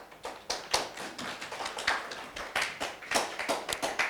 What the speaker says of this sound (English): the local organizing committee deserves a very big hand clap